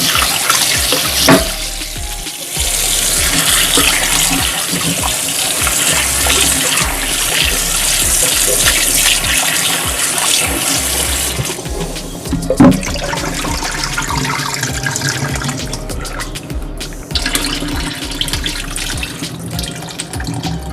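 Steady rushing of running tap water with splashing and clattering as raw oxtail is rinsed underneath, continuous and close.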